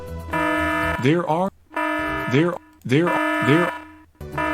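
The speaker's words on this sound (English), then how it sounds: "The alarm's going off." A looping electronic emergency alarm from the Space Quest 2 remake game sounds in repeated buzzing pulses with rising warbling tones, loud and close, interrupted by short gaps.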